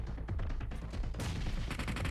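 Rapid automatic gunfire from PUBG Mobile during a global championship match: dense overlapping bursts, fairly quiet, with a sharper brighter volley in the second half and no voices.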